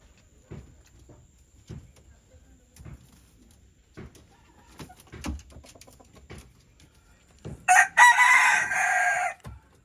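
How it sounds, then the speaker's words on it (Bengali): Near, loud crow from a pure desi rooster bought at a village market. It comes near the end, after a stretch of quiet scattered clucks and small ticking sounds from the poultry. "মোরগটা দেখুন শুধু একদম পিওর দেশি মোরগ"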